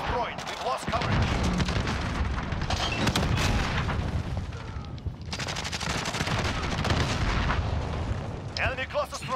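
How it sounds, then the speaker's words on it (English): An enemy cluster strike rains artillery in Call of Duty, a long, dense barrage of loud booms and rapid blasts rolling on for several seconds, briefly easing midway before resuming at full force. "Enemy cluster strike."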